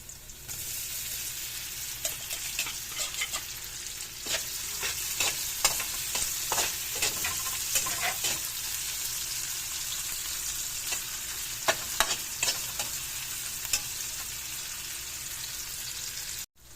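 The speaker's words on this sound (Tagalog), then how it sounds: "pababrown na natin yung longganisa" Longganisa sausage browning in a frying pan, a continuous close sizzle broken by frequent scraping and stirring knocks from a utensil, busiest in the first half and fading out at the end.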